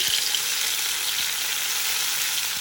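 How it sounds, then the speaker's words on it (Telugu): Chopped tomato pieces frying in a spoonful of hot oil, a continuous bright sizzle and crackle with faint stirring, no voices. "ఇందులో 1 స్పూన్ ఆయిల్ వేసుకుని ఆయిల్ వేడయ్యాక ఒక టమాటాని ఇలా ముక్కలు కోసి వేసుకోండి"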